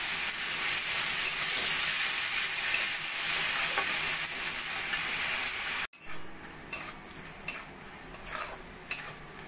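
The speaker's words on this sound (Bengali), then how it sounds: "ভালো করে মশলার সঙ্গে মিশিয়ে মশলাটা কষিয়ে নেব" A spice paste with ginger-garlic paste and green chillies fries in a pan for a bottle gourd curry: a loud, steady sizzle, then quieter hissing broken by several spatula scrapes and stirs.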